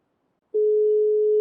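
A steady telephone dial tone in a video game roleplay call, a single clean unbroken hum that starts abruptly after a short silence and holds loud and even to the end.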